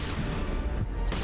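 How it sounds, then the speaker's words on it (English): Loud, dense enemy gunfire aimed at the player in Mass Effect: Legendary Edition, a continuous close barrage of shots and booms with no pauses. "Oh, it's shooting at me."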